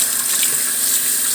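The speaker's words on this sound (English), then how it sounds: "I'm gonna wash my hand here under cold water" Cold water runs steadily from a kitchen tap over a hand, a continuous close hiss and splash with no talking.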